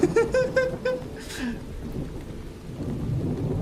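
Steady rain and low rumbling thunder fill a retro-inspired horror video game, a brief run of tonal game sounds near the start sitting above the continuous downpour.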